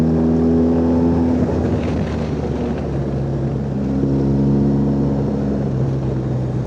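A remapped motorcycle engine drones loud and steady while riding through sweeping bends in Spain or Portugal, its sustained tones shifting in pitch with speed over constant wind rush.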